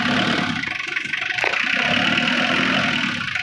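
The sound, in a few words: Mitsubishi Triton 4D56T diesel engine running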